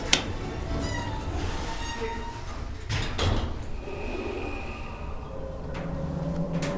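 A Schindler hydraulic elevator at an IKEA store in College Park, Maryland, runs with a steady roaring hum and rumble, overlaid by door slides, clunks and squeaky scrapes, loud and close from inside the cab.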